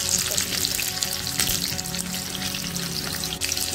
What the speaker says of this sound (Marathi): आता त्यामध्ये मी मिरची टाकते